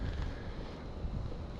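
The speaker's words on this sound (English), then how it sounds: "It's really windy" Steady wind rushing and buffeting against the microphone, a constant low roar with no voices.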